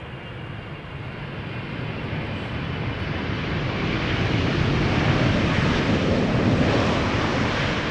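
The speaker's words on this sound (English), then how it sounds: "That's the 777-300ER, KLM flight 682" KLM Boeing 777-300ER jet airliner at Amsterdam Schiphol Airport, a steady broadband engine roar that swells gradually louder as it nears, with wind rumble and no talk.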